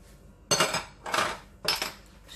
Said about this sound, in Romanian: adăugăm albușurile și un pic de sare